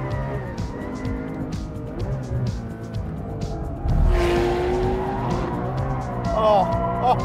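Porsche 911 R, a rear-engine sports car, driven hard at the Anglesey circuit, its engine droning loud and close while tires squeal and skid briefly mid-run, with people talking over the noise.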